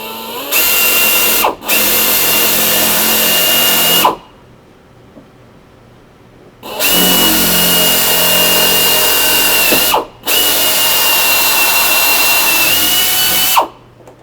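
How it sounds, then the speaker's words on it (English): Power drill boring two 13/64 holes into a door jamb through a mounting clip, loud and close, running in long steady bursts separated by brief stops and one longer quiet pause. "drill 2 13/64 holes into the door jamb."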